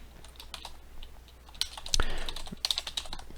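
Computer keyboard typing while coding in Python, a close run of light irregular key clicks with a few sharper taps and one heavier keystroke, no talking over it.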